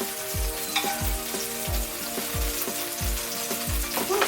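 Scallops searing in a hot frying pan give a steady, loud sizzle, with soft regular thumps and scrapes repeating about every half second underneath.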